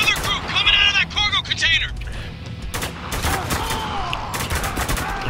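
Rapid bursts of gunfire from the video game Spec Ops: The Line crackle loudly and continuously, with sharp shots layered over a dense battle din and voices mixed in.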